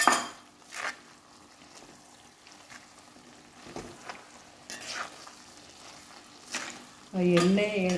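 Spice powder for oil-based mango pickle is stirred into oil in a pan after the heat is switched off. Intermittent scrapes and metallic knocks of stirring sound over a low, soft sizzle, and a voice briefly sounds near the end.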